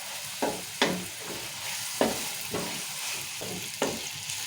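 Tomatoes and onions fry in oil for a mutton curry, a continuous close sizzle broken by several regular scraping strokes of a spoon stirring the pan.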